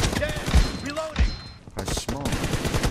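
Gunfire in PUBG team deathmatch, a few heavy thumping shots in quick bursts, mixed under a person talking throughout.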